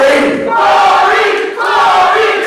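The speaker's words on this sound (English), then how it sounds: "Corey Andrews getting the crowd behind him." A large indoor wrestling crowd roars and cheers loudly and continuously, swelling in two waves with a brief dip between them.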